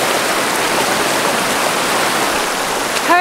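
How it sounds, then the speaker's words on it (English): River water rushes steadily in a broad, even wash while crossing a river channel on a Mt Pinatubo tour. The flow is close and continuous, with no voices. "So we're currently crossing one of the river channels now."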